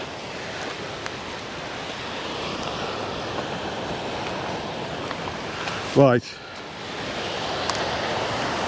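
Sea waves wash continuously along the Paphos coast, mixed with wind noise, and a voice speaks briefly.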